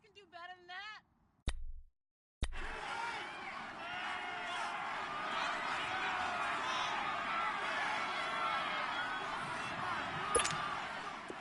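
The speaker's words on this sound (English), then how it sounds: "The crowd getting into it as we come up on a big 3rd down" Football game crowd building into a sustained, dense roar of cheering after a brief dropout near the start, steady and fairly loud through the rest, with a short sharp burst near the end.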